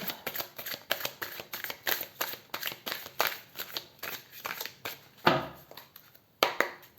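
A deck of tarot cards is shuffled thoroughly during a reading: quiet, close, rhythmic flicks and riffles repeat steadily, with a slightly heavier shuffle near the end.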